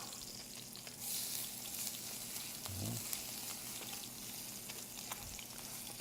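Quiet, continuous sizzling of minced garlic frying in oil, with a soft burst of hissing early on and a low thump or two.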